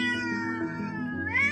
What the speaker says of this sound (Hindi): एक छोटी बिल्ली पानी में फंसी हुई है और चीख रही है।